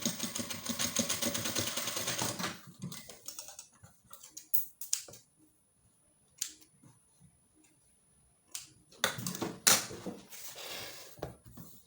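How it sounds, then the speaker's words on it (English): A sewing machine stitching a busk onto a corset, a rapid mechanical run of close stitching for a couple of seconds, then scattered handling clicks and a short final burst of stitching. "So I'll just stitch here also."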